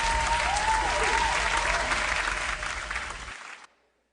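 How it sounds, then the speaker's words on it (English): A convention audience in Toronto applauds steadily for about three and a half seconds, a full, even wash of clapping that fades out abruptly at the end. "We have to clap for that."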